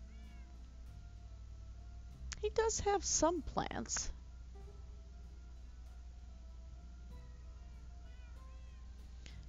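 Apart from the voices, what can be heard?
cat meowing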